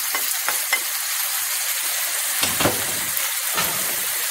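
Three chopped medium tomatoes sizzle in a hot pan for a shepherd's pie, with a steady frying hiss broken by several scraping bursts as a utensil stirs them; close and fairly loud, no talking.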